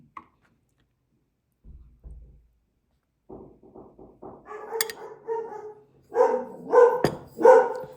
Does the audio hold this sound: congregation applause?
no